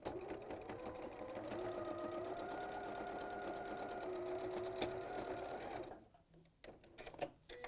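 A sewing machine stitches a quarter-inch seam with a fast, steady mechanical whir for about six seconds, then stops. A few faint clicks and handling noises follow.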